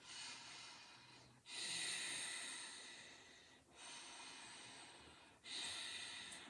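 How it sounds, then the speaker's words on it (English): Ujjayi yoga breathing, slow ocean-like rushing breaths close to the mic, alternating long inhales and exhales with short pauses between, soft and steady with no talking. "we'll do about a minute of your Ujjayi breathing"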